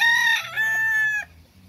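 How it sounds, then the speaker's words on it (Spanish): A rooster crows once, close and loud, its call rising then holding a long drawn-out note before cutting off. "Miren qué gallo más bello, señores."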